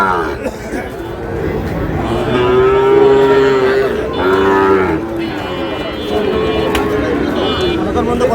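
Sahiwal bulls at a busy cattle market in Dinajpur give several long, loud moos close by, layered over steady crowd chatter and market hubbub.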